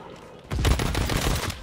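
Gunfire in the Call of Duty video game during a Halloween Scream event, as a burst of several rapid shots begins about half a second in and keeps going. The shots are fairly loud and dense and carry on to the end of the clip.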